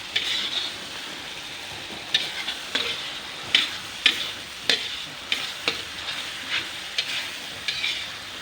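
Spatula scraping and stirring spiced shredded chicken in red chili seasoning in a frying pan, with rhythmic clinks and scrapes every half second or so over a soft sizzle.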